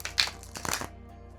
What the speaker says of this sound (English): I love how these shuffle. They shuffle so nice.